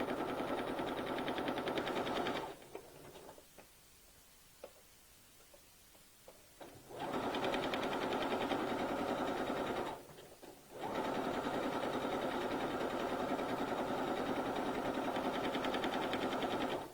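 Sewing machine zigzag-stitching along a fabric edge at 4 width and 4 length, a steady close whirring run that stops for a few seconds of quiet handling, runs again, pauses briefly, then resumes.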